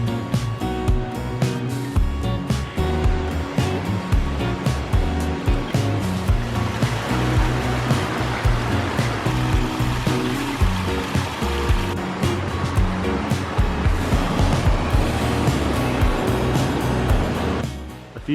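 Small waterfall at Devil's Throat cave in Bulgaria, only a thin flow of water dropping, makes a steady broadband rush and splash that holds at a constant close level throughout, with no voices.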